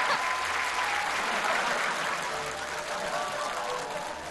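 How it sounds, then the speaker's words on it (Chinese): Audience applause at a live CCTV Spring Festival online gala, steady, dense clapping from a large crowd that fills the whole stretch and eases off slightly toward the end. "来，全场给他掌声鼓励一下"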